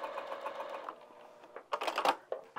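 A sewing machine stitches a seam on a fabric bag, its rapid mechanical whirring running steadily, then breaking into short bursts and stops, close up with no talk.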